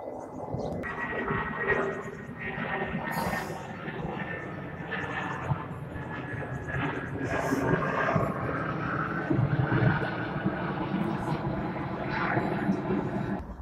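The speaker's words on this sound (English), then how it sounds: "It seems we're really on the Heathrow takeoff path today." An airliner climbs out from Heathrow over a garden allotment, its engines a steady, broad roar swelling and holding for over ten seconds, with a voice talking faintly beneath it.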